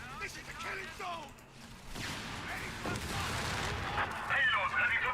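Gunfire from an enemy machine gun position in Company of Heroes, bursts of shots and battlefield crashes under a busy mix of game voices and effects, fairly loud and continuous.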